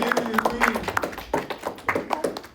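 A small group of people, likely children, clap their hands in a short scattered burst, uneven and close, with brief cheering voices mixed in.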